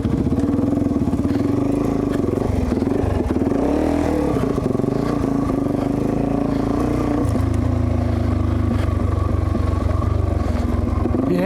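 A motorcycle engine warms up outdoors on a trail with a loud, close, continuous rumble. Its pitch swells and dips as the throttle is blipped and then settles into a steady low drone.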